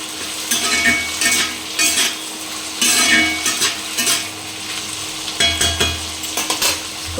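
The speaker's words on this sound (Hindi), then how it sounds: "थोड़ा सा पहले आलू को पका लेंगे, भून लेंगे बढ़िया से।" Potatoes fry in a pan and are stirred, giving close, repeated bursts of scraping and clinking over a continuous sizzle.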